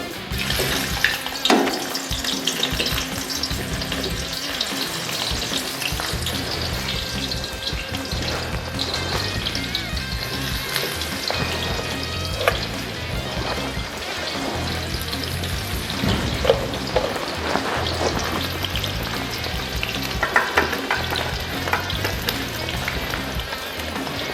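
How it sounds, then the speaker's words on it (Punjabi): Indian gooseberries (amla) fry in hot oil for pickle, a continuous dense sizzle and crackle with occasional stirring clatter, close and steady throughout, with no talking. "ਇਹ ਤੇਲ ਹੋ ਗਿਆ ਜੀ ਹੁਣ ਆਪਣਾ ਗਰਮ ਆ ਤੇ ਆਪਾਂ ਇਹਦੇ ਚ ਪਾ ਲੈਣੇ ਆ ਜੀ ਔਲੇ"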